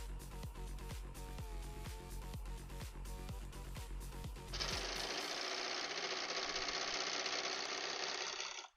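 A sewing machine runs loudly with rapid mechanical clattering and thumping, then shifts to a harsher, steadier whirring buzz for the rest of the stretch.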